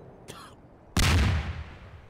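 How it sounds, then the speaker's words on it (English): An incendiary grenade goes off in Garry's Mod, a short faint click followed by a loud sudden burst of fiery rushing noise that fades over about a second. "Is that an incendiary grenade?"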